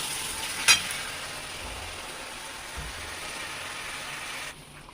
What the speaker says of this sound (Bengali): মাংস কড়াইয়ের মধ্যে দিয়ে দিয়েছি, এবার ভালো করে কষে নেব